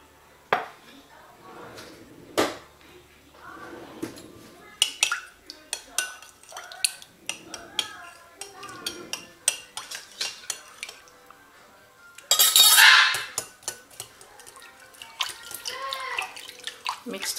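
Flour and milk for pancake batter being mixed in a bowl, with scattered clinks and scrapes of utensil against dish, irregular and close, one louder bright rushing burst partway through.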